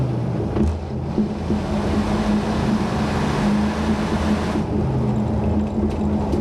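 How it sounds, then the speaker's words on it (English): A 1988 Ford F-150 4x4 short-wheelbase pickup with a stock-style exhaust pulls hard under acceleration, giving a loud, continuous low engine roar with a rising drone heard from inside the cab. "Do a little aggressive pull here again."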